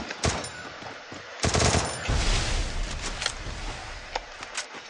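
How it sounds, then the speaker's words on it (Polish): Gunfire in a video game shooter, including an SVD rifle: sharp single shots, then a loud close burst of rapid automatic fire that fades into scattered, fainter shots. "Wow, wreszcie ten drugi w niego strzela."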